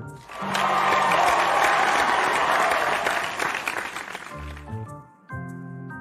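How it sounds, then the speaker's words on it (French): A church congregation breaks into loud, sustained applause and cheering in praise of the Lord, a dense roar that fills most of the moment before fading out beneath music. "Alors, on peut acclamer le Seigneur pour sa vie."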